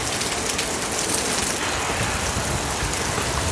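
Steady, heavy rain hisses and patters on a surface, loud and continuous with no voices.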